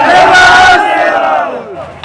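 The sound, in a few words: crowd loudly chanting slogans at a protest rally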